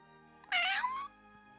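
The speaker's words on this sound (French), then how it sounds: "le chat que nous avons recueilli a été pris en charge par Imeragi" A rescued cat gives a single clear, close meow about half a second long, with quiet around it.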